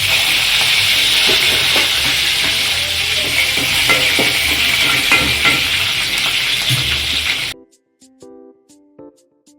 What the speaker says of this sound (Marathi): तेल टाकून आता मिरच्या टाकल्यात